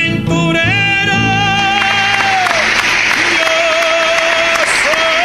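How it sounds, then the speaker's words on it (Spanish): Audience applause for a comedian on the Sabadón television show, loud clapping rising under music with sustained tones and a voice over it. "¡Fuerte el aplauso para el talentazo de Ramón Polanco en Sabadón!"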